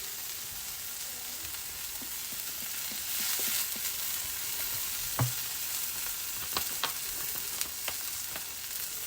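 Chicken wings simmer in a Coca-Cola glaze over low heat, giving a continuous bright sizzle and bubbling with scattered pops and crackles, close and steady, no voices.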